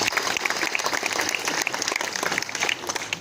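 A crowd at a felicitation ceremony in Maharashtra, India applauds vigorously, dense clapping holding at a constant level throughout.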